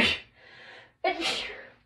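Sneeze set off by the flocking on a gingerbread garland: a short breathy intake followed by one sharp, close burst.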